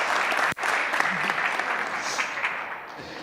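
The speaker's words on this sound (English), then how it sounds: "Let's give a round of applause to all our speakers and moderator." A symposium audience gives a round of applause for speakers and a moderator, a sustained, fairly loud clapping that carries on for a few seconds with a faint voice under it.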